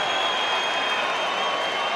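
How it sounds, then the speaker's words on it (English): Boxing arena crowd at the Ancajas–Conlan bout roaring and shouting at the referee, a dense, steady wall of voices and noise that holds loud throughout with no single voice standing out. "You can hear what the crowd wants him to do."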